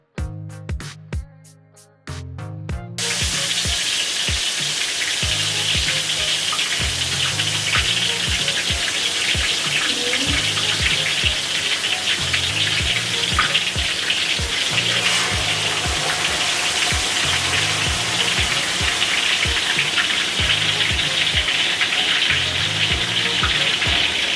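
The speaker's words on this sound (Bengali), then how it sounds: "সো দেখতেই পাচ্ছেন মুরগি দুটি ভাজা হচ্ছে" Two broiler chickens frying in hot oil, a dense steady sizzle and crackle running throughout, loud and close, with a repeating music loop underneath and no talking.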